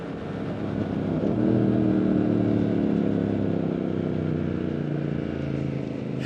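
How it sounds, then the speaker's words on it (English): A Triumph Speed Twin 1200cc twin-cylinder motorcycle engine chugs at low revs, close and loud, with a brief rise in revs early on before it settles into a steady, deep rumble. "fire up the engine and those twin exhausts chug at low revs"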